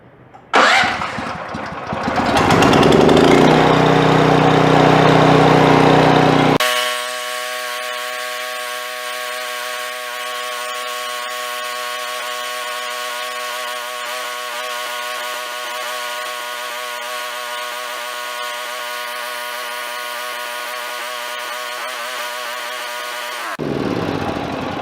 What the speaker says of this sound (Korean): 제가 시동 걸어 보겠습니다.